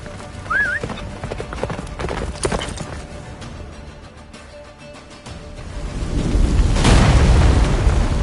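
Roach the horse galloping through a blizzard in The Witcher 3, hoofbeats clopping along under a rising roar of wind and rumble that swells loud toward the end, with a short whinny early on.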